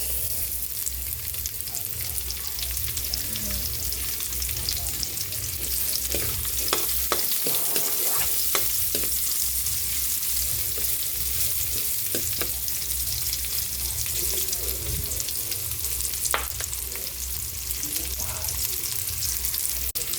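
Onions sauté in a pan with a steady close sizzle, broken by scattered scrapes and taps of a spatula stirring throughout.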